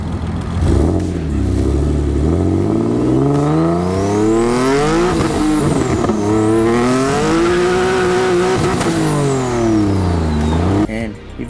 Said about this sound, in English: Let me add a clip right here so you guys can see where I'm doing a burnout, and somehow I was shifting fast and I missed the gear.